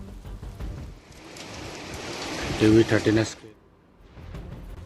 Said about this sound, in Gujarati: સુરત જિલ્લામાં ગાજવીજ સાથે ભારે વરસાદ પડ્યો છે